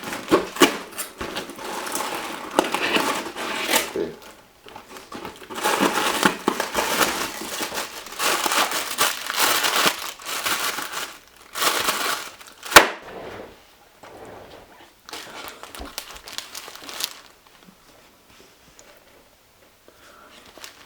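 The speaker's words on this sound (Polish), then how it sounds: "teraz będzie unboxing. Fajnie zapakowane." A nicely wrapped package being unboxed, the paper crinkling and rustling loudly in bursts close by, with quieter handling toward the end and no talking.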